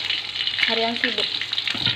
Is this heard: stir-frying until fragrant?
yes